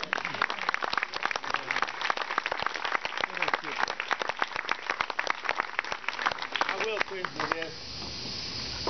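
Applause for Randy, Karen and their family at a graduation home reception, a dense, steady patter of clapping that runs loud and unbroken for most of the stretch before thinning near the end.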